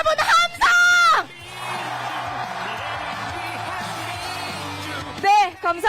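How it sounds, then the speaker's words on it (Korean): Crowd at an Ulsan election rally roars and shouts in a sustained mass cheer, framed by a loud amplified voice at the start and end. "울산 시민 여러분 함성!"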